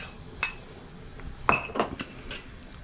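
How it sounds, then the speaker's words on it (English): A fork clinks against a bowl in a few sharp, separate taps during whisking in a home kitchen. The taps sound close over a quiet background. "Notice that I said whisk, but I'm using a fork."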